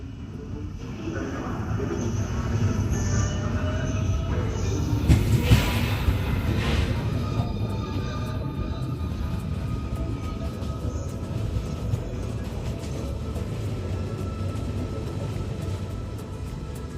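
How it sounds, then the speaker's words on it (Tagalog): An Italo high-speed train departs Florence Santa Maria Novella station, a continuous low rumble with rolling rail noise and a brief brighter screech partway through, heard steadily from close by. "at umalis na ang tren namin mula Florence papuntang Benevento."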